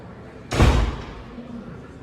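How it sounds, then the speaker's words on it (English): A door closed by a public employee in a public building lands as one sharp, fairly loud slam or thud, followed by quiet room tone. "He's like, all right, closes the door."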